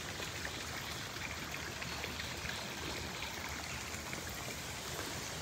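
A forest stream flows downhill among trees, its water rushing and trickling in a steady, even wash that continues without pause and without voices.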